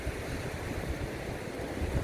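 Steady surf and gusting wind along a beach in Pangasinan, a continuous low rumble of waves with wind buffeting the microphone, no voices.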